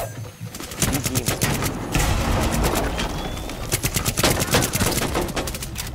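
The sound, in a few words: gunfire in the video game Rainbow Six Siege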